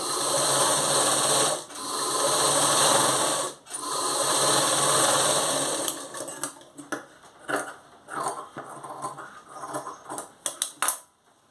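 Sewing machine stitching a blouse, running in long loud bursts of rapid mechanical whirring, then breaking into short uneven clicks and stops as the stitching slows.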